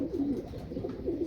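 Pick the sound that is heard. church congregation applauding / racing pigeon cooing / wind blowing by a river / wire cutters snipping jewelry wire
racing pigeon cooing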